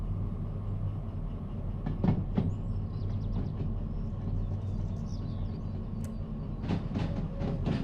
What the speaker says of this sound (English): A long old train.